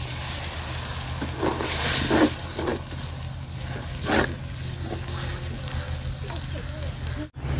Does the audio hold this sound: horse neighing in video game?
no